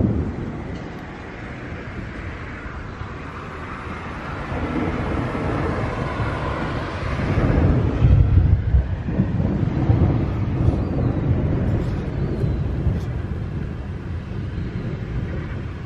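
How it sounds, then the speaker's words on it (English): Thunder from a storm that has rumbled steadily for about half an hour, a broad low rolling roar that swells louder midway and keeps grumbling to the end, with no clear talk. "We've got thunder going on."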